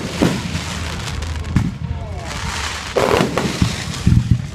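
Fireworks bursting close by outdoors, a run of sharp cracks and pops with heavier bangs scattered throughout, some crackling tails between them, and a person talking now and then over the explosions.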